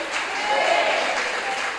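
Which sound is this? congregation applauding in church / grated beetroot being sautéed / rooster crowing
congregation applauding in church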